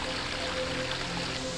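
Waterfall seen from the tea room at Nanzen-ji Zen temple in Kyoto, a soft, steady rushing wash of falling water heard at a distance, continuous and unbroken, with no talking.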